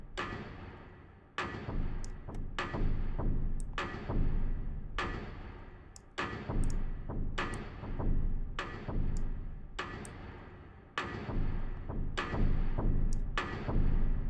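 A drum kit is pushed through a Tokyo Dawn Labs Molotok compressor plug-in: steady kick and snare hits with ticking cymbal accents repeat in a loose groove, the hits thick, loud and squashed, with no one talking.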